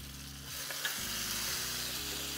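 Minced garlic and a heap of red pepper flakes fry in hot oil with a steady, close hiss, a few stirring scrapes and knocks breaking through the continuous sizzle.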